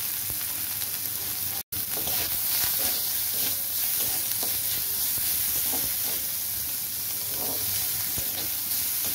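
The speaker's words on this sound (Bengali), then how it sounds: "পেঁয়াজ কুচি দিয়ে দিচ্ছি।" Chopped onion fries in hot oil with garlic and ginger paste for a fish-head moong dal. A steady sizzle carries intermittent stirring scrapes, broken by a brief dropout near the start, and there is no talk.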